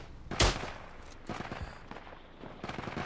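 Gunfire in a World War 1 video game: one loud, sharp shot near the start, followed by fainter scattered shots and rattling bursts in the distance.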